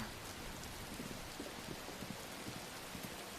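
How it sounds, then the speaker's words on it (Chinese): Heavy rain falls outdoors at night, a dense, steady hiss of drops hitting surfaces, fairly faint and continuous with no voices. "这才过几天啊，就下这么大雨。"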